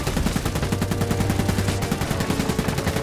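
Rapid gunfire and machine-gun bursts from the Iron Harvest strategy game's Polanian campaign, a dense, continuous rattle of repeated shots across the whole moment with a low sustained drone beneath.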